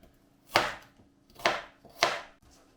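Hot peppers and garlic being cut with a kitchen knife, three sharp, distinct chops on a board spaced about half a second to a second apart, close and clear with no voices.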